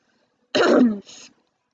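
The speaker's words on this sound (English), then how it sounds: "Sorry, I keep coughing." A single harsh cough or throat-clearing burst, close and fairly loud, followed by a shorter, softer rasp, then silence.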